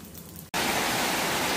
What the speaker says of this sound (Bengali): দেখেন এরই মধ্যে কিন্তু বৃষ্টি ঝপঝপ ঝপঝপ করে পড়তেছে